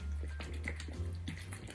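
Water trickles and drips onto begonia seedling substrate, soft and close, with a low steady hum underneath and no talking.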